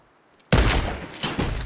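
Fortnite gunfire cracks out in two loud, close bursts: a sharp volley followed by a second one after a short pause, with no voices.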